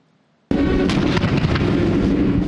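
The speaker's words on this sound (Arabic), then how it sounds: "على وقع هدير 21 طلقة للمدفعية العسكرية" Military artillery fires a 21-gun salute at the state military funeral of former Egyptian president Mubarak, heard as a sudden heavy boom that rolls into a loud, continuous rumbling roar with several sharper blasts inside it.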